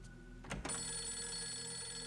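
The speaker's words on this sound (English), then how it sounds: "That is a loud ass phone." A loud telephone ringing in the horror video game Fatal Frame 3, a sustained shrill electronic ring that swells after a brief thump and continues steadily, alone without talk.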